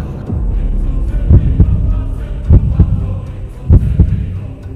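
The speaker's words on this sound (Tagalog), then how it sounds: "biglang bumilis ang tibok ng puso ni Popoy" A loud, steady heartbeat effect under a Filipino horror story about an aswang, with deep paired thumps repeating in a slow, regular rhythm over a low, throbbing hum.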